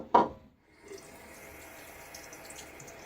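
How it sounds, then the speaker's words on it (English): Tap water runs over fingertips to rinse off shaving soap in a sink, starting with a brief splashy burst, then a soft steady trickle that continues quietly with no talking. "Washing my fingertips off of the soap."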